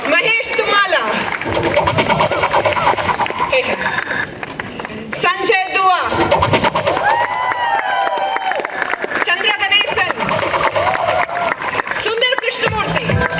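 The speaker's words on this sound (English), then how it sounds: "Come on, guys, let's cheer." A crowd at an event cheers and applauds as names are announced, a steady wash of clapping and whoops running the whole time, with a voice calling out names over it.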